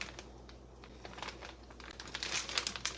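Plastic bag being torn open and crinkled in a kitchen, close rustling and crackling that grows busier toward the end, fairly quiet and without talk.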